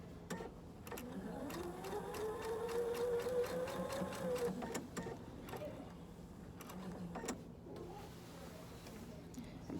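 A sewing machine stitches fabric for an outside fly, a fast rhythmic run of needle clatter that pauses and restarts as the fabric is turned, with a faint motor whine and soft handling clicks, and quiet speech at points.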